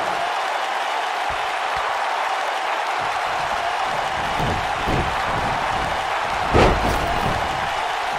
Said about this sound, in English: by the sound of this crowd, they're getting what they wanted